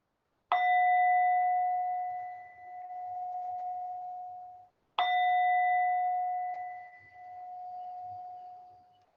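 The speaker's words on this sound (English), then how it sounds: "And so with the sound of the bell" A meditation bell is struck twice, each ring a clear resonant tone that swells and slowly fades in a quiet room.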